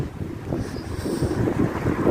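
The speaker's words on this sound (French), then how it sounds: "il y a du vent. Aujourd'hui ça souffle, un truc de malade" Strong storm wind gusting outdoors near Poitiers in January, a dense rumbling buffet across the microphone that swells steadily louder over a couple of seconds, close and without talk.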